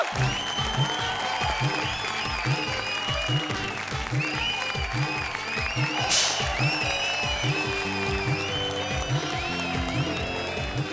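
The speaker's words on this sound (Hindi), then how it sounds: "जोरदार तालियां।" Loud, sustained applause from a studio audience at a televised comedy show, dense continuous clapping with music playing underneath.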